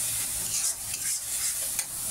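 Spices with red chilli powder frying in a pan while being stirred, a steady close sizzle broken by soft scraping strokes, with no voices.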